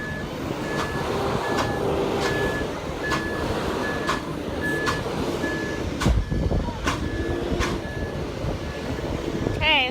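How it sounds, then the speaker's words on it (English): Concrete truck reversing on a farm during a concrete pour, its backup alarm beeping in a steady repeating rhythm over heavy diesel engine rumble; people talk nearby and clanks and knocks break through. "so now we're getting the second concrete truck"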